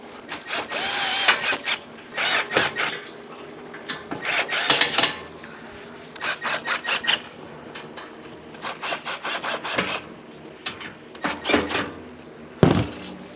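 Furniture being assembled, with fasteners tightened by hand: repeated bursts of rasping, ratcheting turns in short clusters against wood, fairly close and loud, with brief pauses between rounds and no talking.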